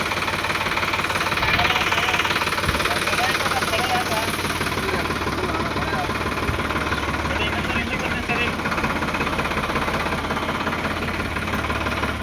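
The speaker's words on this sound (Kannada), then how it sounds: "ಟ್ರ್ಯಾಕ್ಟರ್ನಲ್ಲಿ ಯಾವುದೇ ಲೋಡ್ ಇಲ್ಲ, ಬಟ್ ಗಾಲಿಗೆ ಗ್ರಿಪ್ ಸಿಗ್ತಿಲ್ಲ" An unloaded Sonalika tractor stuck in rain-soaked mud runs with a loud, steady diesel chugging and knocking as its wheels fail to grip, the engine note holding constant and close throughout.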